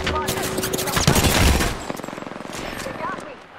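Gunfire in Apex Legends: a dense stretch of rapid automatic shots, with continuous firing, explosions and game noise mixed under a talking voice.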